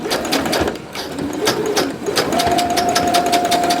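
Sewing machine stitching a fabric grocery bag, a close, steady mechanical whirr with a rapid needle rhythm and a faint thin tone appearing partway through.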